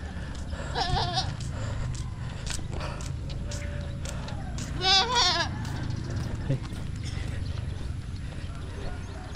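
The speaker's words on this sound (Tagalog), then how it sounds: "Daming kambing guys ah." Goats bleat a few times at mid distance near the Capitol in Bongao, Tawi-Tawi, on a morning outdoors, over steady street ambience with hoof-like clip-clop and faint passing traffic.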